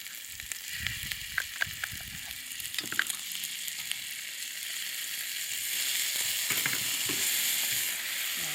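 Shrimp and Chinese okra stir-frying with chili bean sauce in a hot pan, a steady close sizzle with scattered clinks and scrapes of stirring that swells louder toward the end.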